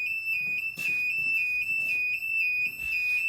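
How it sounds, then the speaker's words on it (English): A Kombora III home security system alarm siren sounds indoors as a steady, piercing high-pitched tone, moderately loud and continuous, with faint background movement and noises around it. "the alarm is still, the siren is still ongoing for 1 minute"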